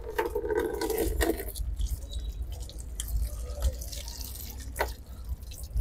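A tap runs into a sink while hands are washed, with splashing, dripping water and small clinks. The sound is close and uneven, and no one speaks.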